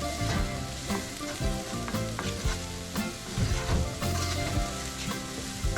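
Onions frying in olive oil with a pinch of salt in a pan, a dense steady sizzle close by with occasional clinks and stirring scrapes, continuous and fairly loud throughout.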